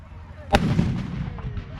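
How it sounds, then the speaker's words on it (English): A 105mm gun on an Abbott tracked self-propelled vehicle fires a single loud, sharp blast, followed by a long rumbling echo that slowly fades over the next second. "We're going down to our Abbott, and this is a 105mm gun."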